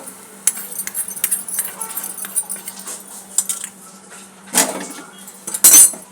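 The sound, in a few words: mixing the sambharo mixture in a pan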